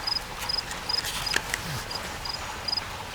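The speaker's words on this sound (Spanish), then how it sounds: "El grillo no canta para usted, canta para mí." A cricket chirps in short, evenly spaced bursts, a thin high trill repeating steadily against a soft background hiss.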